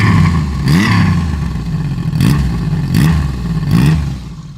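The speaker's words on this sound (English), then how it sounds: "Has a gnarly little rumble to the 3-cylinder." Engine of a 1980 Yamaha XS850 three-cylinder motorcycle, a low-mileage, well-kept bike, blipped four times in quick succession, each rev rising and falling over a rumbling idle, close and loud.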